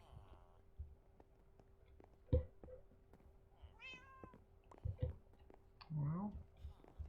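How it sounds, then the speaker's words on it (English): A cat meows repeatedly, loud and close, with squawky rising and falling calls at irregular intervals and a few clicks between them. "Badger's cat just squawking away."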